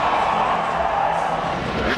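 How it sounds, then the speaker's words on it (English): A large crowd at a Red Bull X-Fighters 2009 freestyle motocross final in Calgary cheers in a steady, broad roar, with a commentator's voice over it. "The crowd here in Calgary are great. They're cheering on every single trick."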